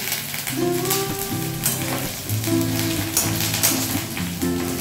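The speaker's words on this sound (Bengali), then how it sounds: "এবার এর মধ্যে আমি দিয়ে দেবো একটা কারি পাতা ছড়া এতে দিয়ে দিচ্ছি।" Curry leaves hit hot oil in a pan alongside potatoes and peanuts, a loud, continuous close sizzle and crackle running through the whole moment.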